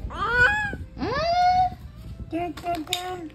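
A cat gives two drawn-out meows, close by, followed by a few shorter, higher mews, with faint background chatter.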